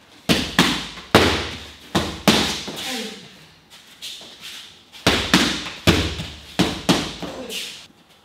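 Kickboxing punches and kicks slam into pads during pressure drills, sharp loud thwacks in quick clusters of two or three with short pauses between, a voice faintly heard among them.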